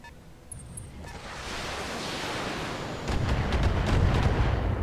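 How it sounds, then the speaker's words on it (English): Bombing explosions in the mech combat video game Battletech, a continuous roaring rumble that swells louder after a few seconds, with heavy low booms and crackling bursts, no talking. "Please stop bombing me, it's kind of rude."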